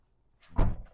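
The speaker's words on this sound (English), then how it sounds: "I realized when Palmer closed the door, he didn't close." A door swings shut with a single solid thunk after a brief rustle, loud and close, then a short tail of handling noise with no talk.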